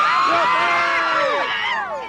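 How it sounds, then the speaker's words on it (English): Crowd of hundreds outside the San Mateo County Courthouse cheering a guilty verdict: loud, continuous mass of shouts and whoops with rising and falling voices throughout, heard from among the crowd. "A crowd of hundreds outside the San Mateo County Courthouse greeted the guilty verdict with cheers."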